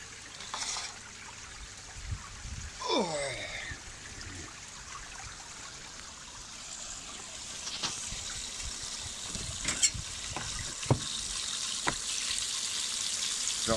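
Water trickles and splashes steadily out of an overflow outlet on an IBC tank, a close, gentle flow with occasional knocks and clicks of handling and no talking.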